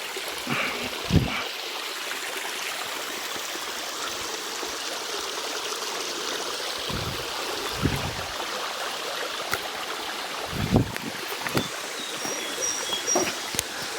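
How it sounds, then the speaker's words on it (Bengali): Water falling from high up a waterfall at Mirsharai, Chattogram, rushes in a constant roar, with a few brief knocks and splashes breaking through now and then. "এই হলো নাপিতা ছাড়া ঝর্ণার পানি ধারা অনেক উপর থেকে পানি আসতেছে"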